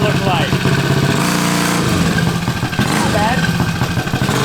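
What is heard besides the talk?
40HP mini bike engine accelerating off the line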